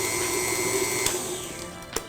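A stand mixer runs steadily, beating a peanut butter mixture with granulated sugar, vanilla and salt for tiramisu, giving a close, continuous motor whir with a faint tick or two and no talking.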